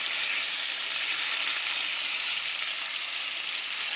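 Hot grease sizzles in a pan with a bright, even crackling hiss, close and continuous for a few seconds with no talking.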